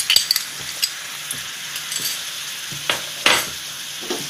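Malai cream is stirred in a hot kadhai for coconut laddu, giving a soft continuous sizzle with intermittent scraping and clinking strokes of a spoon against the metal pan, close and clear.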